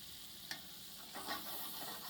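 Steak being sealed in a hot pan, a steady soft sizzle with a couple of brief louder flares as the meat shifts, heard close and alone.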